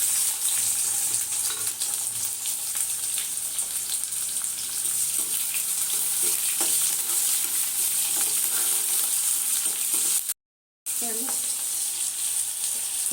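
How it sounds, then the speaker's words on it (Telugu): Mustard seeds, chana dal, urad dal and cumin crackle and sizzle loudly in hot oil for a tempering, a dense continuous frying hiss broken once by a short gap. "ఆవాలు, పచ్చెనగపప్పు, మినప్పప్పు, జీలకర్ర అన్నీ కలిపిని తాలింపు గింజలు వేస్తున్నా."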